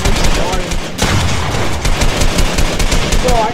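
Dense, continuous gunfire from a shooter video game in a 2v2 match rattles close and loud throughout, with rapid automatic bursts and a player talking over it.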